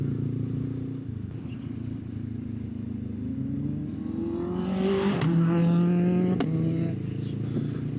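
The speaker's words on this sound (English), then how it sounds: "The rally car flying past me there." A rally car approaches from behind and roars past a motorcycle rider on a French road, its engine rising in pitch and loudness as it nears and accelerates, heard over the bike's own steady engine and wind noise.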